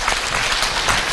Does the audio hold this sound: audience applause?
yes